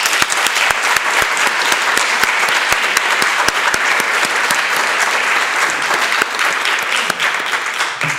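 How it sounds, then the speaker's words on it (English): Conference audience applauds the speakers of a two-day crime and public space event, a loud continuous burst of many hands clapping with a few sharp distinct claps standing out near the start. "I would like to ask you a big applause for all of them"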